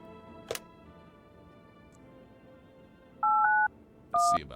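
Telephone keypad tones in a game, two short bursts of dual-tone dialing beeps, clear and loud over a quiet background with a faint click earlier.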